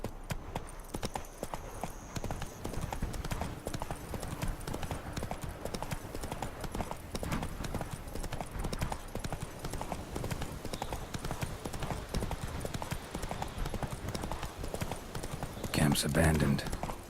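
The horse Roach gallops in The Witcher, a fast, even clip-clop of hooves that runs steadily throughout, with a brief louder rustle near the end.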